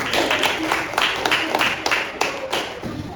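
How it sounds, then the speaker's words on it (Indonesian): A classroom group claps for group 4, a quick, fairly loud patter of many hands with some sharper individual claps, lasting the whole stretch. "tepuk tangan untuk kelompok 4 yang sudah menyampaikan"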